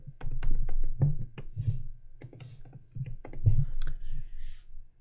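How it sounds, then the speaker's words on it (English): Close, uneven tapping of keys on a computer keyboard, bursts of quick clicks with short pauses, no voices. "I'm going to type my placeholder text"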